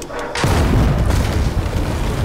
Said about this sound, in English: I'll be surprised if this cannon actually still works.